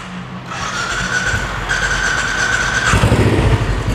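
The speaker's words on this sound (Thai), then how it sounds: "ฟังเสียงท่อคันนี้กันครับ" A 2018 Royal Enfield Bullet 500 Classic with its original exhaust runs close by, a low rumbling idle that swells into a rougher, louder throb partway through, with a faint whine above.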